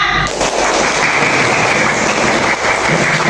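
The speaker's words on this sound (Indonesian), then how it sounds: "Kasih tepuk tangan untuk kita semua." A burst of dense clapping from a group, loud and sustained throughout with no pauses.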